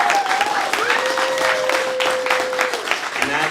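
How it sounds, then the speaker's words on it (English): Applause from the audience at a film prize kickoff event, a brief burst of steady clapping while a voice continues over the top. "So that is worth some applause."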